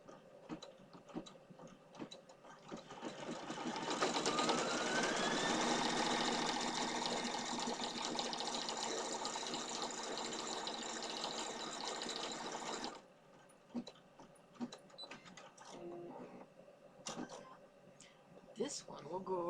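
Embroidery machine stitching stripes around a sock, a fast rattling mechanical run of needle strokes that starts a few seconds in, holds steady for about nine seconds, then stops, leaving faint clicks and handling noises.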